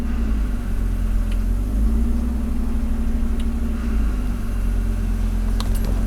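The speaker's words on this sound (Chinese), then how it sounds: "我们再来做一次发动" An Audi 90 engine running at a steady idle after repair work, a continuous close rumble with a constant low hum, no talking.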